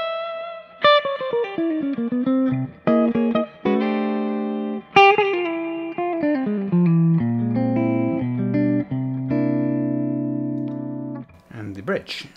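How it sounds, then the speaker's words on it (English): Electric guitar, an Epiphone Les Paul Special with Wolfetone P90 pickups on the combined pickup setting, plays a warm, jazzy solo line of picked single notes and short chords with light sustain, close and clear with no talking. "Fairly warm, jazzy kind of sound, combination of pickups."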